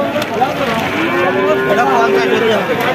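A Sahiwal cow or bull calf at a cattle market gives one long, loud, close moo lasting nearly the whole moment, with market noise around it.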